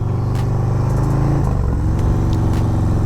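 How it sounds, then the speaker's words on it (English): A 2023 Harley-Davidson Road Glide ST rumbles loudly and close through Tab mufflers, a deep throbbing exhaust note that swells briefly mid-way as the throttle opens. "These Tab mufflers sound awesome."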